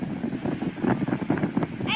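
Steady wind gusting and buffeting the microphone outdoors, a continuous rough roar with no talking.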